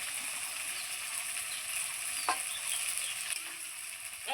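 Masala with tomato fries in oil for a Bengali-style Pabda fish curry, making a steady, bright sizzle with a couple of brief scraping stirs, close and alone.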